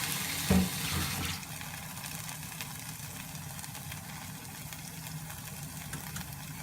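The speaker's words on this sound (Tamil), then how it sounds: "நம்ம இதில் வந்து புளி தண்ணியை வந்து கரைச்சி வச்சுருக்கதை இதில் ஊற்றிடுவோம்." Tamarind water poured into a pan of okra mandi, a brief splash and glug at the start settling into a steady low sizzle and bubbling, close and even with no talk.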